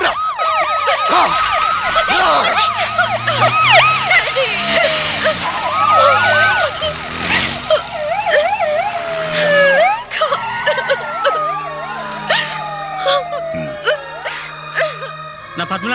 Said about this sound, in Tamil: சோனியா, ஃபயர் இன்ஜின் எடுத்துட்டு வாங்க